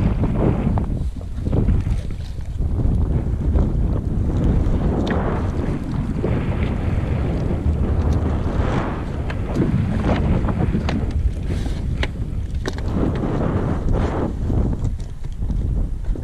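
A jet ski sits on open water in steady wind during a kiteboarding kite setup, giving a continuous roar of wind buffeting and water rush that stays loud and unbroken throughout.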